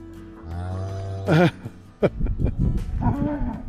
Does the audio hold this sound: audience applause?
no